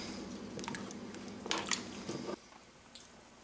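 Irish stew with carrots and bay leaves being stirred in a pot, giving soft wet squishing and a few light clinks of the utensil for a couple of seconds before it goes quiet.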